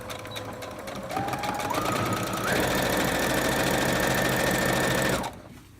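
A sewing machine runs close by as it hems cotton fabric, whirring up in quick steps to a fast steady stitching rattle for a few seconds before stopping.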